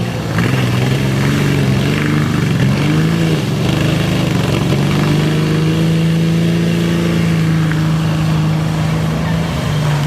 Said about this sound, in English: You got tough trucks tonight.